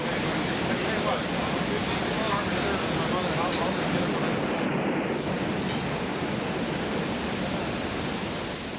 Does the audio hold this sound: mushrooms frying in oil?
no